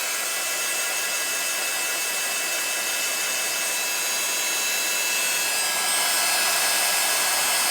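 A heat embossing tool running on its highest heat setting for card making, a loud steady blowing whine that holds continuously and grows slightly louder toward the end.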